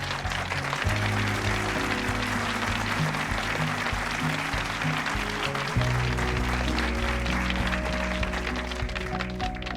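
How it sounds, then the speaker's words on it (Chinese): A room full of people at a hospital gathering bursts into continuous applause, a dense, even wash of clapping that holds steady from start to finish, with faint voices beneath. "鼓掌！"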